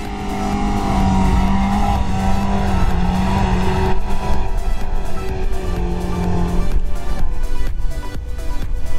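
A Lada Niva 2118 4x4 engine roars steadily as it accelerates hard in four-wheel drive on sand, the revving loud and close throughout.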